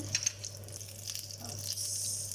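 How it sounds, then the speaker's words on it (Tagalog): Pork embutido pan-fries with a continuous, moderate sizzle and crackle, faint pops scattered through it and a low steady hum underneath. "Ipan-fry ko lang and then saka natin hiwain."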